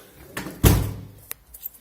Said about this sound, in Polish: tutaj zamkniemy drzwi, żeby było widać, że bardzo ładnie chodzi ten zamek